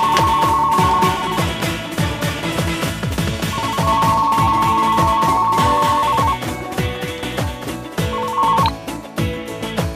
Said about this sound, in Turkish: Bir şey ötüyor. Telefon kızım.